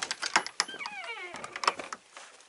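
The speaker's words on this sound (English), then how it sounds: "there's my grandma's cats" Cats in a shed at night give a few drawn-out meows close by, set against a faint background hiss, with no one talking.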